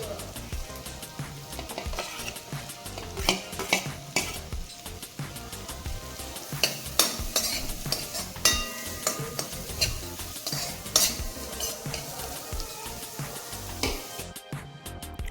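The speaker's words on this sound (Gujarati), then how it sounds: "વેજીટેબલને આપણે બહુ સાતળવાના નથી" Chopped vegetables for a veg soup sizzle in a hot pan while being stirred, with steady frying crackle, repeated scraping of a utensil against the pan, and occasional clinks, close and continuous without talk.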